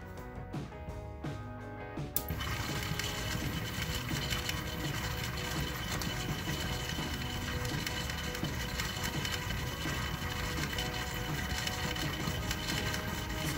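A homemade DIY rock tumbler's motor runs at slow speed, a steady mechanical whir with rhythmic rattling that begins abruptly after two seconds of quieter hum and then continues evenly and close throughout.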